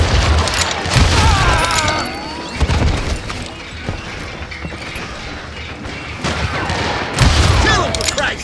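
Heavy Wild West gunfire from Call of Juarez: Gunslinger, a dense fusillade of shots, booms and crashes that stays loud and continuous throughout, with shouting voices mixed in.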